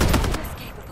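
AK rifle fire in the battle game Farlight 84, a dense rapid burst of shots that is loud and close at first, then trails off into a fading echo.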